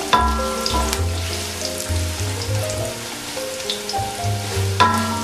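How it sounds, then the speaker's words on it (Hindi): Whole black peppercorns, cloves, black cardamom and cumin are stirred as they fry in hot oil for a matar pulao, a steady loud sizzle with a few scrapes, under background music and with no talking. "सिर्फ एक दफ़ा इसको अच्छे से मिक्स कर रही हूँ मैं।"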